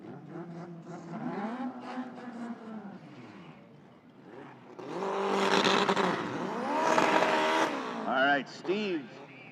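Drag racing cars launch side by side at a no-prep event at Toronto Motorsports Park, a Honda among them, their engines revving and swelling loud with rising pitch sweeps, a commentator talking over the roar.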